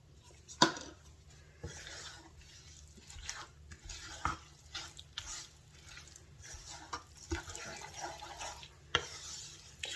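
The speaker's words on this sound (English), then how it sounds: "Just gonna want to stir it real good." A spoon stirs a thick no-bake cookie mixture of oats, peanut butter and vanilla extract in a pot, making soft wet scraping and irregular clicks against the sides, close and fairly quiet.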